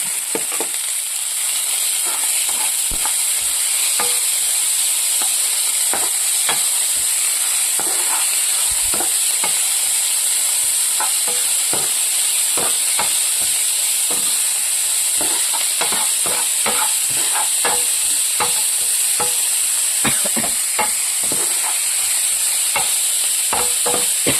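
Turkish berries and onions are sautéed for a masala curry, with a spoon stirring and scraping in a pan in irregular clicks over a steady, loud sizzle that holds throughout, and no talk.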